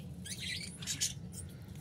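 A caged parakeet gives a few faint, short squawks and chirps, quiet and fairly close, over a low background hum.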